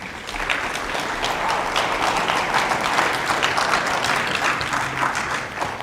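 A crowd applauds for two young women at a Lawrence County school sports recognition event, with steady, dense clapping that fills the room for several seconds without a break.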